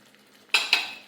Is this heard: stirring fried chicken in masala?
yes